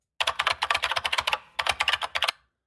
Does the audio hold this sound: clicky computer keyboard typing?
yes